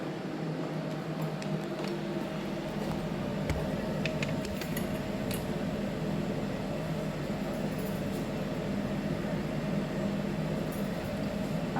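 Kozhiyala fish curry gravy boiling in a pot, a steady, even bubbling hiss that carries on unbroken throughout at moderate level, with no talking.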